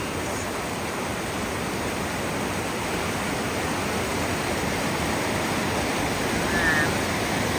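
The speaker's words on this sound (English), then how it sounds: "And this is the view of the fall from the bridge." Cold Brook Falls pours steadily as a continuous broadband rush of falling water, heard from a bridge above the brook, loud and unbroken throughout, with no other sounds.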